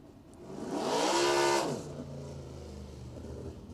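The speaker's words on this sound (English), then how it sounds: "As Martin makes another lap to allow the congestion down here in the tech area to thin out a little bit." A sprint car at the East Bay WinterNationals races past on a lap, the engine roar swelling loud and near, then dropping in pitch as it moves away into a fainter drone.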